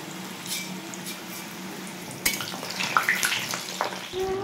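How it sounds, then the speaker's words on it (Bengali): Saffron-boiled potatoes for biryani frying in a copper pot, a soft hiss of oil with scattered crackles and a sudden sharper sizzle midway, followed by clinking and light stirring noises. "এখন ভেজে নিচ্ছে বিরিয়ানির আলুটা"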